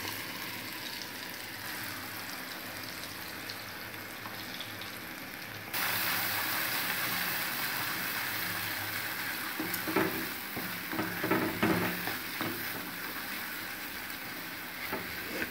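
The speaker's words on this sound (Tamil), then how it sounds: "ஒரு 2 நிமிஷம் மட்டும் சாட்டே பண்ணால் போதும்." Ground garlic chutney fries in a pan with a constant close sizzle that turns louder and brighter partway through, followed by a cluster of scraping stirs near the end.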